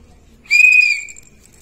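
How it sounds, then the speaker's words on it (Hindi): A whistle used in a balloon-and-whistle experiment gives one loud, clear, high blast of about half a second that fades quickly into near silence. "हम लोग जब सीटी बजाते हैं तो कुछ देर के लिए ही सीटी बजती है"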